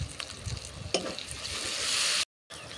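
Tomato frying in a pan while cooking potol chingri, a Bengali pointed gourd and prawn curry, sizzling steadily and closely, with a brief stir early on, then a growing hiss before a sudden cut to silence.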